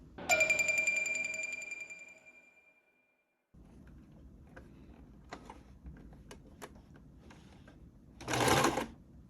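A ringing tone fades away, followed by scattered mechanical clicks and a short, loud burst of sewing machine whirring near the end.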